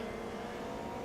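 A DTM race car from 1992 at Hockenheim in Automobilista 2, late braking with a steady, loud engine drone and layered mid-range tones throughout, no voices.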